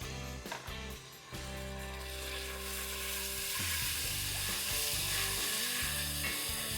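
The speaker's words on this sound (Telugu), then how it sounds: "ఉల్లిపాయలు కొత్తిమీర పుదీనా మంచి కలర్ వచ్చే వరకు వేగనివ్వాలి" Onions fry with coriander and mint in a pot, giving a steady close sizzle that builds and holds, with a few clanks of a utensil near the start and a low tonal hum underneath.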